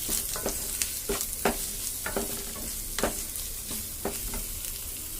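Egg fried rice being stirred in a pan with salt and black pepper, a soft steady sizzle broken by repeated scraping strokes of a spatula at a regular rhythm, close and fairly quiet.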